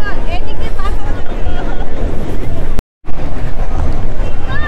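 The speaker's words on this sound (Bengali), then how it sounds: "তো সমুদ্রের গর্জন আপনারা শুনতে পাচ্ছেন হয়তো," Sea waves roaring on the beach at Cox's Bazar with the tide coming in, a loud, constant wash mixed with wind buffeting the microphone and someone talking over it, broken by one brief dropout near the middle.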